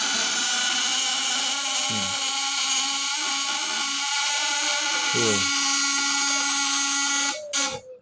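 A high-voltage fish shocker inverter gives a continuous high-pitched electronic whine with a lower hum. Someone talks over it briefly twice, and the tone shifts and cuts out near the end.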